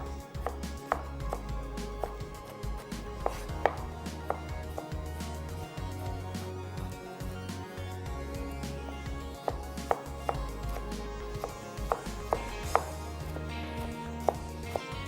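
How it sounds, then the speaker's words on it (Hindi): Tomatoes being chopped with a knife on a board, steady close knocks repeating at an even brisk pace throughout, with no talk. "चलो जी, टमाटर भी हमारे चॉप्ड हो गए"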